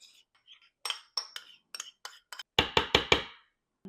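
Grinder salad ingredients tossed in a bowl with a utensil, giving a run of quick clinks and scrapes that speed into several louder, closer strikes near the end, with no talking.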